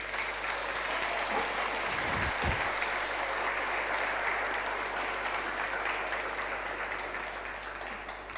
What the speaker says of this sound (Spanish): Dale un aplauso a Jesús por ello.